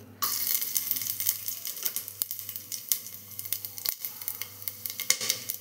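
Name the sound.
whole cumin and whole garam masala sizzling in hot oil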